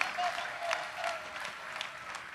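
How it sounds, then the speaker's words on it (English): Steady applause from a conference audience at a Liberian diaspora gathering for an ambassador, a soft even wash of many hands heard from a distance, quiet and continuous, with faint voices mixed in. "Another big round of applause for Ambassador Cassell."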